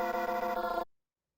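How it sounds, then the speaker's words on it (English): A tubular bells sample sounds one bright, ringing metallic note with rich overtones. It sustains for under a second and then cuts off abruptly into silence. "So the bell sounds like this."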